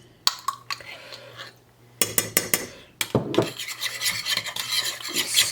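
A spoon scrapes and rasps against a pan as Dijon mustard is stirred into a simmering sauce for pork with apples and walnuts. Short scraping strokes come in bursts, then grow into fast, dense, loud stirring near the end with no talk.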